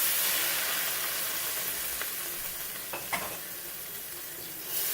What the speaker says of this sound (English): Now I add a little wine.